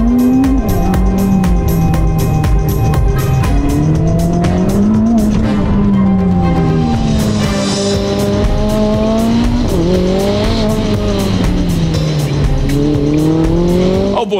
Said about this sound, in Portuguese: Leclerc já havia rodado pelo circuito de rua de Mônaco, praticamente quintal de sua casa, a bordo da Ferrari SF90 Stradale.